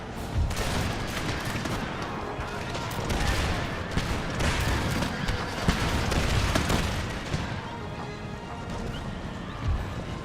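Musket and pistol volley fire in the Empire Total War strategy game, heard as dense, crackling gunfire rolling continuously over a busy battlefield din with hoof-like clatter.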